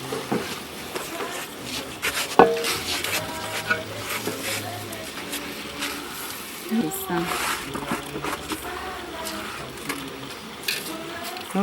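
Rice being stirred in a pan with carrots, onions, peppers and celery, giving soft scraping and light sizzling strokes that repeat close by at an uneven pace, with one sharper knock partway through.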